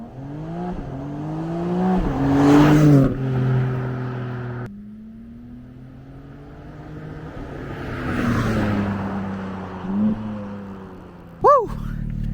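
A BMW M3 Competition engine revs hard through two strong pulls, its pitch climbing steadily and dropping back between surges. It sounds close and loud, with a brief sharp rise near the end.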